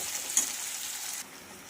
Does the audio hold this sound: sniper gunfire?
no